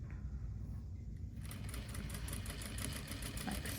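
A sewing machine runs steadily at close range, back-stitching at the edge of fabric after a turned corner, with a fast, even mechanical whir and a rapid rhythmic needle tick.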